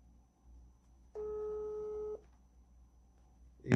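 A telephone call is being placed and a single steady electronic tone sounds for about a second, moderately loud over faint room noise, before the line goes quiet again.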